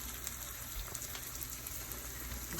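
Eggs sizzle in a frying pan for a breakfast scramble, with a steady, even hiss and faint crackles running throughout, close and alone without any voices.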